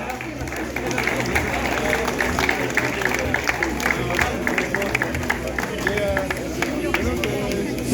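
Crowd applause and cheering outdoors at a half marathon podium as an elite men's runner is introduced, steady clapping mixed with crowd babble and a voice speaking over the noise.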